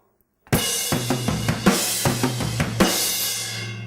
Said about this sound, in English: So I'm doing a tom beat, which is basically sounds like this.